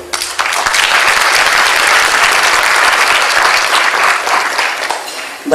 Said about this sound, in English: Round of applause for this outstanding people.